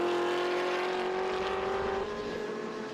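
Engine of the Tyre Power Holden Commodore tin-top race car at Winton Motor Raceway, a steady loud drone at sustained high revs that shifts slightly as the car powers through and out of a corner.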